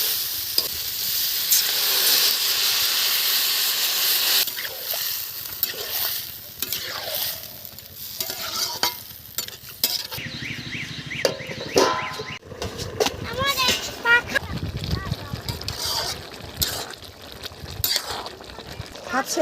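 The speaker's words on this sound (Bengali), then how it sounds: "এখন আমি জল ঢেলে দেবো" Water is poured into a curry of Malabar spinach, frying in a pan. A loud hiss and bubbling sizzle continue with stirring and scraping while someone talks over it.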